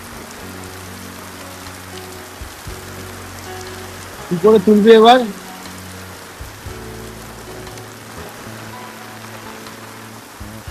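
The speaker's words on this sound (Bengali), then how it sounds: "পুরো ভয়ঙ্কর জোরে বৃষ্টি পড়ছে, ভয়ঙ্কর।" Heavy rain pours on a Ganges riverbank as a steady, close wash of falling water, and someone speaks briefly over it.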